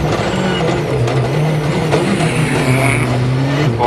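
A WRC rally car runs flat out on tarmac toward chicanes at the 2013 Rally Italia Sardegna, its engine loud and close with a sustained high-revving drone, rising and falling pitch as it shifts, heard alone.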